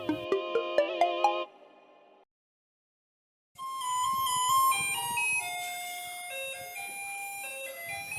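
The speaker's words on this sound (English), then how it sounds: "For those in Taiwan, you'd recognize that as a remix of the Garbage Truck song." A remixed theme tune built on the melody of Taiwan's garbage truck song plays as bright, electronic chime-like notes. A short burst is followed by a brief silence, then the melody continues steadily and loud.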